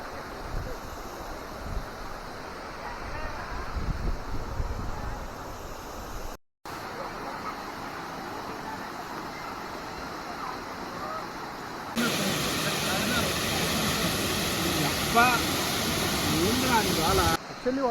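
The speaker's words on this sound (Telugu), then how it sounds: "This is our water fall." Devarapalli waterfall, running low in the dry summer, gives a steady rushing hiss of falling water with wind noise on the microphone, and a few voices speak over it before the roar grows louder near the end.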